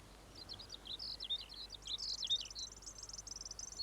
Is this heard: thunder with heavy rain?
no